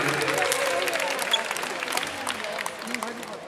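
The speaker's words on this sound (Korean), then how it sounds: "자, 뜨거운 박수 부탁드리겠습니다." Spectators at the final of a women's doubles super tournament applaud the finalists with steady, moderately loud clapping and crowd noise, while voices carry on underneath.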